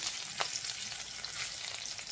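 Garlic, green chillies, dry red chillies and nigella seeds tempering in hot oil in a pan, a soft continuous sizzle with faint crackle, quiet and steady throughout with no talking.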